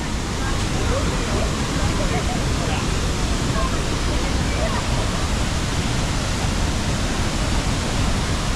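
A waterfall roars as a broad, constant rush of falling water heard up close, loud and unbroken, with faint voices of people nearby.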